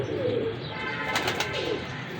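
A fancy pigeon gives a soft, low coo twice close by, a faint burbling call over light background noise.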